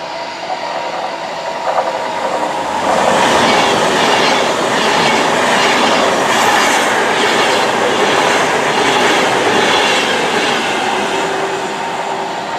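A train roars past close by through Long Buckby station on the Northampton Loop, its loud rushing rumble swelling after a few seconds with rhythmic wheel clatter, then holding steady.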